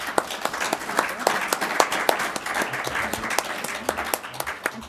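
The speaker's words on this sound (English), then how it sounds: "I want everybody to give them a round of applause." An audience at a policy ideas conference applauds a panel, a crowd of clapping hands with distinct individual claps standing out, steady and fairly close, fading slightly toward the end.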